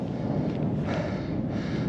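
Strong wind gusts over an open mountain summit in the Ariège, a steady low roar buffeting the microphone throughout with no speech.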